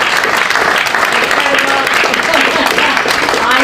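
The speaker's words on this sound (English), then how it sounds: "If we give him a round of applause." A full round of applause from an event audience fills the whole moment, loud and dense, with crowd murmur and a voice talking faintly underneath.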